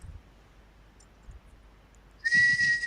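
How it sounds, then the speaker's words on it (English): A sharp referee-style whistle blast enters near the end of a quiet stretch at an Australian football review show, loud and sustained against a faint background hum. "you just listen for the whistle"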